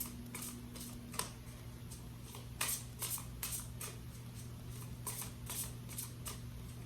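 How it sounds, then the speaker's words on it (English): Tarot cards being shuffled in quick, crisp riffles and flicks, close and fairly quiet, repeating in short bursts over a low steady hum. "Alright, last shuffle."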